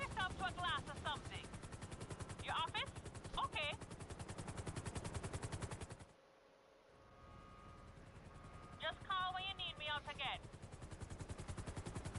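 Helicopter in the video game GTA Online, a fast rhythmic rotor chop that runs loud and steady, cuts out briefly and then returns, while someone talks over it.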